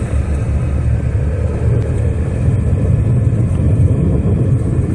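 A 1983 Renault Alliance car drives past, a steady loud low engine and road rumble filling the whole stretch without any talk.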